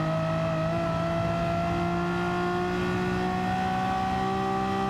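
Engine of a small, light McGain race car accelerating in a racing video game, a steady rising whine with climbing pitch held continuously, loud and close, no speech.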